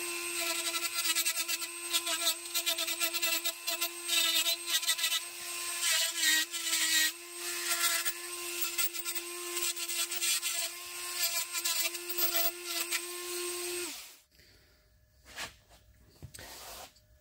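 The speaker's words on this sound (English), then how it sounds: "So I'm just using my little Dremel" A small Dremel rotary tool grinds and dresses out a damaged cylinder head, giving a loud, steady high-pitched whine for about fourteen seconds before it cuts off, followed by faint handling noises.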